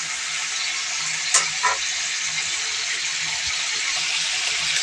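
Prawns frying in white oil with a little ghee for a prawn biryani, giving a steady, even sizzle and hiss throughout with a couple of brief clinks partway through.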